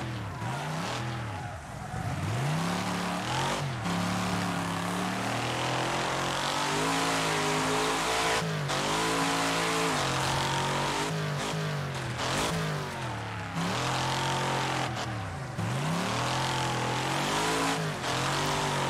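A 2023-era arcade demolition racer, Wreckfest, plays a multiplayer race on a death-loop track. A loud, continuous engine roars and revs through the whole stretch, rising and falling with gear changes, with tyre scrub and skidding as the car drifts through a corner.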